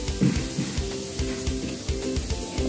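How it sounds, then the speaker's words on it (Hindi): Mutton sizzles and fries in a hot pan with Maggi chicken cube masala stirred in, a steady close crackle with scraping stir strokes throughout. "मटन डालकर एक मिनट तक भून लेंगे और इसी में मैगी का चिकन क्यूब मसाला भी ऐड कर देंगे"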